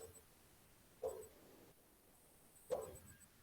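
A dog barks twice, about two seconds apart, each bark short and sharp against a quiet indoor background.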